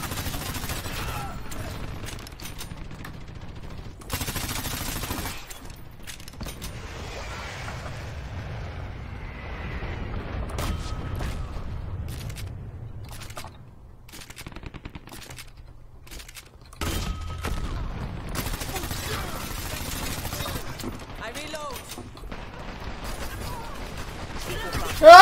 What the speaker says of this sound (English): That's an awful grenade.